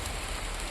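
Steady rain falling during a storm, a dense, even hiss of drops on surfaces that fills the short stretch without pause or voices.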